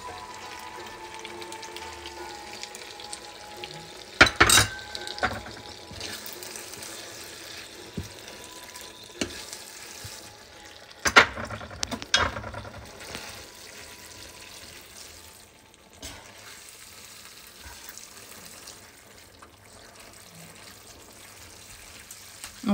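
Pasta cooking water poured into a pink vegetarian sauce in a pan, a soft watery pour and sizzle with a couple of louder clanks and splashes early on, settling into a quiet bubbling simmer.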